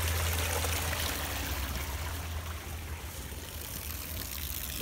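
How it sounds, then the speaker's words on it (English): Water trickles and drips steadily through a small rock dam at a lake's edge, a continuous soft wash with a low rumble beneath, no talk. "And it's dripping out, so we're good."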